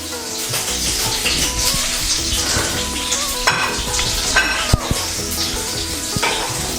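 Moong dal cutlets fry in ghee with a steady, close sizzle, broken by a few spatula scrapes and clinks against the pan.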